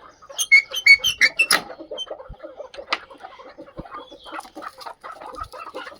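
Desi chickens cluck close by in quick bursts as they are driven out of a coop, with a few louder squawks early on, then scattered softer clucks and rustling.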